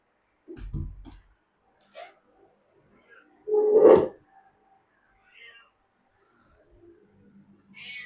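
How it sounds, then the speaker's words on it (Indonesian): A pet cat meows a few times indoors, with one louder, drawn-out call in the middle and a few fainter sounds around it, heard alone without talk. "sorry dia kucing aku Bella"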